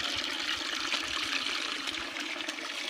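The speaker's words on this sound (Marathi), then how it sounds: "पाणी येते. आता पाण्याचा टप काय झालाय, भरलाय, तरी पण पाणी काय होतंय, नाचतंय." Water spills over from a full storage tank in a steady, close rushing trickle with small splashes, continuous throughout.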